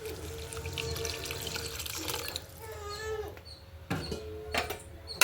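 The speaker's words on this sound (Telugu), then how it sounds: "ఇప్పుడు చింతపండు పులుసు పోసుకుందాం ఫ్రెండ్స్" Tamarind juice poured into a pan of dried fish and tomato curry, a liquid splash and trickle over steady cooking sizzle, with clatter toward the end.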